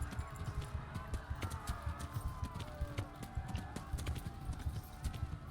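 Horse hooves gallop at a steady rhythmic clip-clop in the medieval-world game Kingdom Come: Deliverance, close and continuous for the whole stretch, with no talk over it.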